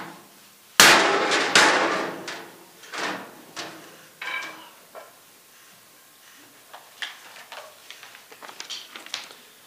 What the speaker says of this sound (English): The governor trying to smash the glass there